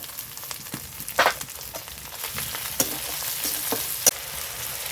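Ginger-garlic paste and chopped tomato hitting golden onions in a hot pan for chicken do pyaza, a loud close sizzle with a sudden burst and several sharp utensil scrapes, no talking.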